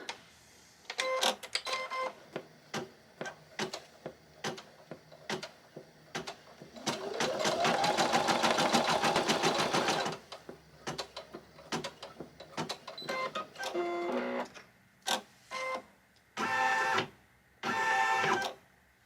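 An embroidery machine stitches black thread for a bunny treat bag, running in rapid mechanical bursts of varying length separated by short pauses, with one longer sustained run and a rising whine in the middle.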